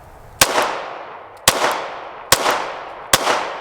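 Four sharp pistol shots from an original Springfield Hellcat handgun at a shooting range, evenly spaced about a second apart, each loud crack followed by a brief ringing decay, with no talking.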